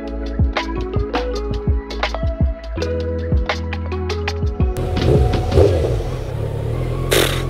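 A Kawasaki Z900 motorcycle engine revs in a series of sharp, loud throttle blips that rise and fall, then settles into a rougher, sustained rumble close by.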